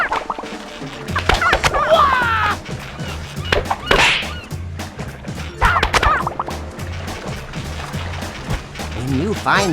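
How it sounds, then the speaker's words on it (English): Birds in the video game Nicktoons: Battle for Volcano Island, squawking calls mixed with sharp whacks and hits from gameplay, layered under game music and a narrating voice. "Shoo those birds away."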